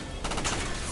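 A mech fires its machine guns in the video game Front Mission 1st Remake: a brief, loud, dense burst of rapid gunfire that fills the short moment with no break.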